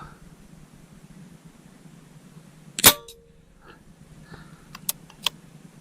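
A single sharp, close crack from a BSA Scorpion TS .177 air rifle firing one pellet at a 5-yard target, followed by a few faint clicks and ticks in a quiet setting.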